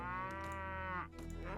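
Cattle moo in the Mount & Blade Warband game with a Skyrim Civil War mod: one long, drawn-out, close moo, then a lower, rougher lowing sound, with no talk.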